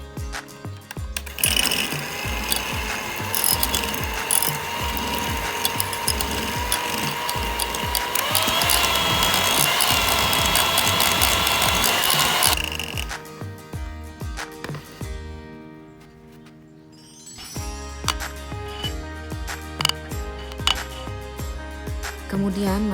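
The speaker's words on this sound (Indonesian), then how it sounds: "kocok mentega hingga menjadi krim" An electric mixer beats butter until creamy for kastengel cheese cookies, giving a loud, steady mechanical whir that shifts pitch partway through, then cuts out briefly before starting up again.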